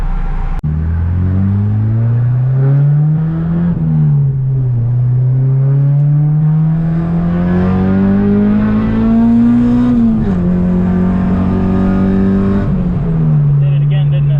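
An Acura RSX Type-S with a K-Pro street tune holds full throttle, its loud engine drone climbing steadily in pitch with a few brief dips, close and continuous throughout.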